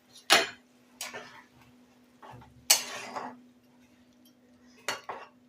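A spoon stirs a curry pan holding four green chillies and a little water, giving several sharp metallic clinks and scrapes at irregular intervals against the pan, close and fairly quiet, with soft rustling between.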